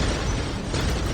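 A cannon shot in a Warhammer 40K battle game, a loud, dense blast with a broad roaring body that holds at full strength for its whole short length, without any voices over it.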